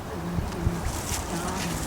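Honey bees at an opened top-bar hive on a lychee farm: a close, continuous buzzing hum with a few louder passes of individual bees, rough with wind noise on the microphone.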